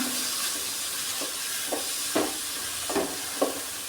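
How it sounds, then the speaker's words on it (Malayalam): Sliced onions sautéing in oil in a pan for pepper chicken, a constant bright sizzle broken by several sharp stirring scrapes and clicks, close and fairly loud, with no talk. "സവാള ഇട്ടതിന് ശേഷം നമുക്ക് നന്നായിട്ടൊന്ന് വഴറ്റി കൊടുക്കാവുന്നതാണ്"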